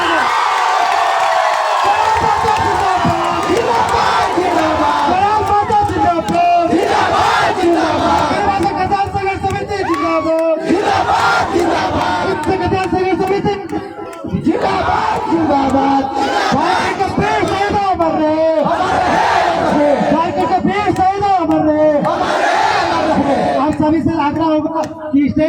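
A dense rally crowd for Jairam Mahto in Dumri, Giridih, chants slogans loudly and continuously, voices roaring together in rhythmic shouts with cheering throughout.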